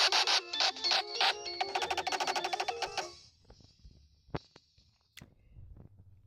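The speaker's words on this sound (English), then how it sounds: "Is there the exploding reactor part?" A harsh, distorted electronic burst of chopped, pulsing noise for a few seconds, then cutting out to near silence with a couple of sharp clicks.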